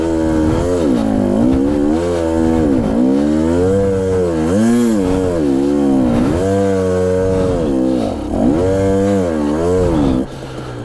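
A Husqvarna enduro motorcycle with a worn clutch revs hard on a steep hard-enduro climb, its loud close engine rising and falling in repeated throttle bursts before easing off at the end.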